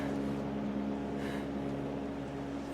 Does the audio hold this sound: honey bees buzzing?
no